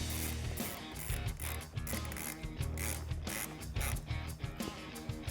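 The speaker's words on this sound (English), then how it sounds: "And go ahead and tighten it back down." A hand ratchet tightens a 12mm bolt while a headlight is fitted on a 2019-2020 RAM 1500 pickup. Quick bursts of close, quiet clicking run in short irregular strokes throughout, with no voices.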